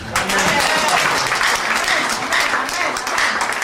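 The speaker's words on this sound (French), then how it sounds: "Applaudissons le Seigneur." A French-speaking congregation claps in praise of the Lord during a sermon, loud, dense applause held throughout with voices mixed in among the clapping.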